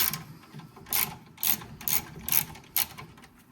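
Fuel filter housing on a 6.7L Powerstroke Ford being hand-tightened: a series of about six crisp ratcheting clicks in short bursts, close and fairly loud over a quiet background.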